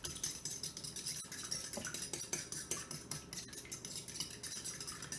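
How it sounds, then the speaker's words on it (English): Eggs and oil being beaten together by hand in a bowl, giving a steady, brisk run of clinking and scraping strokes against the bowl, close and fairly quiet, with no talking. "I'm going to beat my eggs and my oil together."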